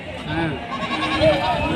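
A young goat of the Kanchi breed, about six to seven months old, bleats over steady background chatter and noise at a goat and sheep market, its thin cry rising briefly amid the murmur.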